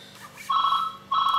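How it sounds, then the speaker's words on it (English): A telephone rings with two short electronic trills separated by a brief pause, fairly faint against a quiet room. "Oh, the phone's gone off."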